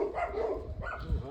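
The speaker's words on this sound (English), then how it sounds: "And some dogs are greeting us again." Dogs in a Hungarian village greet new arrivals with a few short barks over about a second, moderately close against light outdoor background noise.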